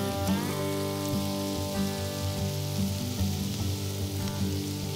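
Onions sizzle on a Traeger Flatrock griddle, a steady crackling fry heard up close and alone, with light scraping and stirring and a faint tonal hum underneath.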